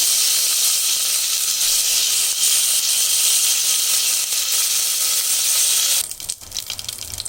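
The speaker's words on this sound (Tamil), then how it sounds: "இதில் வந்து நம்ம கடுகு சீரகம் வெந்தயம் போட்டுக்கலாம் ரெண்டு வரமிளகா கொஞ்சம் கருவேப்பிலை" Mustard seeds, cumin, fenugreek, dried red chilies and curry leaves sizzle in hot oil for sambar, a loud, steady hiss that spits and crackles throughout, then drops and turns choppier near the end.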